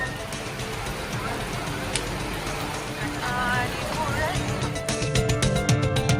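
Heavy sudden rain falling steadily across outdoor areas near Coimbatore, a dense continuous hiss with some louder drips toward the end, while a person talks over it.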